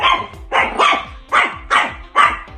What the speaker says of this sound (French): Dès que je fais quelque chose, elle arrête pas d'aboyer.